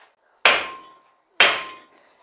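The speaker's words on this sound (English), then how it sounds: "And I can just whack this rotor with a little hammer." Two sharp metallic strikes from a small hammer on the brake rotor of a 2013-2020 Ford Fusion, about a second apart, each ringing briefly with a clear tone before fading, close and alone.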